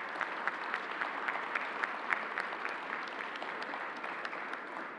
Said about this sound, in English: Let's give Alan and the entire team a round of applause